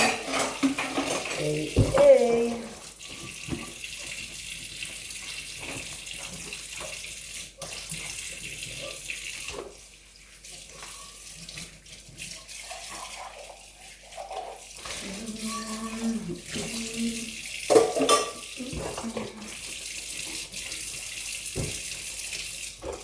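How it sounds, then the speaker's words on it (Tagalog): Dishes and pans are washed under a running tap, with water hissing and splashing throughout and repeated clatter of plates, pans and cutlery close by. "Puro hugasan."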